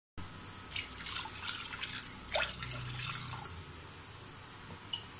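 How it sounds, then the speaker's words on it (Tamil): A tumbler of water poured into a cooking pot of boiled chickpeas while making a spinach koottu, a close splashing pour with some drips that settles into quieter trickling, with no talk. "ஒரு டம்ளர் தண்ணி ஊற்றணும்"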